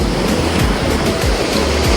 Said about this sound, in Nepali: पानीको छाल निको आइरहेको